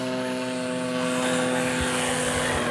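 A Hanger 9 PT-19 RC model airplane on its maiden flight at an R/C flying field runs at half throttle. Its engine and propeller hold a steady, loud, buzzing drone with strong harmonic tones, close by and alone.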